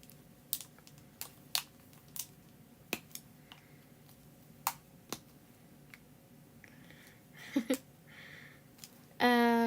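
Typing on a computer keyboard comes through as scattered, sharp clicks spaced irregularly over a quiet room hum, followed by a short burst of louder sound at the end.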